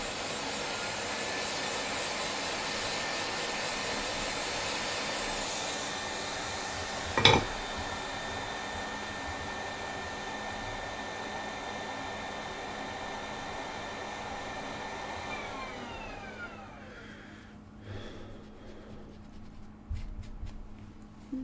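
Steady, fairly quiet whoosh of a hot air rework tool blowing on a circuit board to loosen flux, with a brief click partway through, then tapering off near the end.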